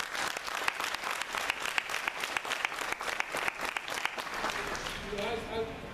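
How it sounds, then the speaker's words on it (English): Applause for a police department at a municipal primary election public forum in Laurel, a dense crowd clapping that swells with sharp individual claps, then thins and fades out as a voice begins speaking at the end. "give our police department a great big round of applause"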